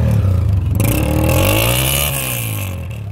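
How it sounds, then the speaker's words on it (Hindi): 2004 Honda motorbike engine at a Sunday bike market in Karachi, loud and close, idling with a throbbing beat, then revving up and settling back down. "अच्छा स्टार्ट करके साउंड सुना दीगा बाइक का।"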